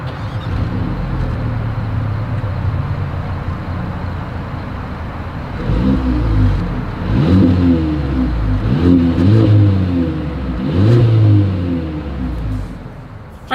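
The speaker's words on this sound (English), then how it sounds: "As always, here is that exhaust clip." Exhaust of a 2023 Mercedes-Benz GLA 250, idling steadily before a series of sharp revs from about six seconds onward, each a loud, close swell of engine and exhaust roar that falls back to idle.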